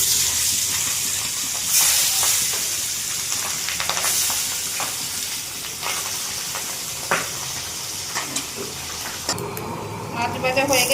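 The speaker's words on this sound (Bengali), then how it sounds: "কড়াইয়ের তেলটা গরম হয়ে গেছে, এবার তার মধ্যে মাছগুলি দিয়ে দেবো।" Salt-and-turmeric-rubbed small catfish hiss and sizzle as they go into hot oil in a wok, a steady bright frying noise with occasional spits and bursts, close and continuous.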